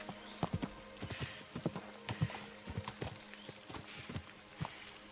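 Horse hooves clip-clopping at a steady walking gait in the video game Kingdom Come Deliverance 2, a repeated rhythm of fairly close thuds with faint ambient background and no talk.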